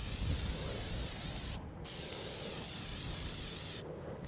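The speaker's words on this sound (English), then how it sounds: "spray a little bit on this" Two short hissing bursts of cover scent attractant spray, close and fairly quiet, separated by a brief pause, with no talking.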